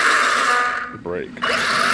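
A Castle Creations SCT 1410 RC car motor whines steadily at high pitch, then drops into a brief gliding, buzzing tone as the brakes are applied before the whine returns, close and loud, with a person talking over it.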